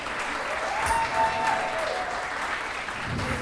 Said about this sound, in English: Please give Kayla a round of applause